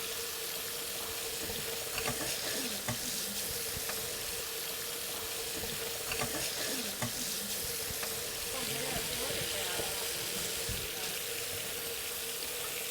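Salmon fillet searing in a hot pan for a Tuscan-style dish, a steady broadband sizzle holding at a constant level throughout with faint clatter and stirring over it.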